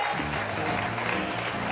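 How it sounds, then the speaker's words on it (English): Hands clapping during a church service, a dense steady patter of claps mixed with music and voices throughout. "Clap your hands, little sister. Lift them up high and clap."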